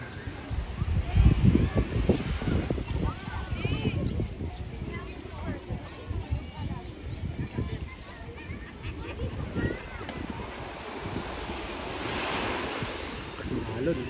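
Ocean waves break and wash onto the shore at the Canyon Cove hotel beach. The surf roars and hisses steadily with gusty wind buffeting the microphone, and people talk over it.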